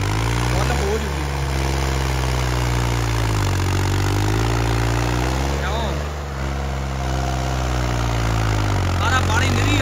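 A New Holland 3630 tractor's diesel engine runs at a steady idle, a deep continuous throb close by with slight dips in the rumble, while people talk over it.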